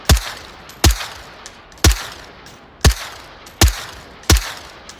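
Single semi-automatic shots from a FAMAS bullpup rifle in the VR game Onward, six sharp cracks spaced about a second apart, loud and close with brief decaying tails.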